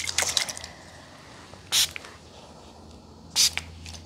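Two short bursts of a spray bottle hiss at even intervals, close and crisp, after some faint rustling.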